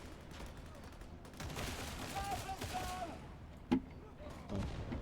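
Gunfire in the video game Warhammer 40K Darktide, rapid bursts of shots and a sharp louder bang over steady game background noise, with talking faintly beneath.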